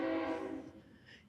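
A man imitates a train horn with his voice, one sustained, harmonically rich blast that fades out over about a second, heard alone and fairly faint.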